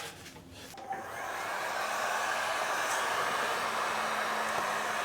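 A hot air gun blows heat onto rubber boots on a friend's motorcycle. A steady, even whooshing hiss starts after a second and runs on alone, fairly near.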